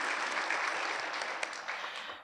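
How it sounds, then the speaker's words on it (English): Luncheon audience giving a round of applause for honorees at a teacher and employee of the year event, a steady wash of many hands clapping that tapers off at the end. "Everybody give them a round of applause."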